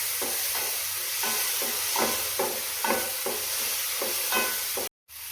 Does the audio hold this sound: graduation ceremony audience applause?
no